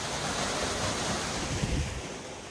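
Water pours steadily from a pipe into a freshly cleaned concrete water tank, a continuous broadband rushing gush that holds constant at close range without any voices.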